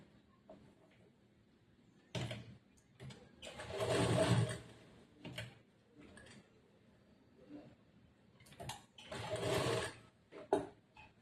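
A sewing machine stitching churidar semi-patiala pant fabric runs in two short close bursts of whirring stitches, separated by quieter handling and fabric shuffling, with no talking.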